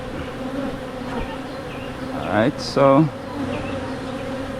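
A wild bee colony being removed from school grounds fills the air with a dense, steady buzz, a swarm of bees humming close by, while someone speaks briefly over it.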